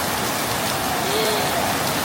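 Steady rain falls during the dry season on Koh Tao, Thailand, a dense, even hiss of drops pattering on surfaces throughout, close and fairly loud.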